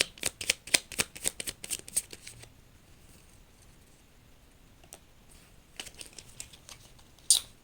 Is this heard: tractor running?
no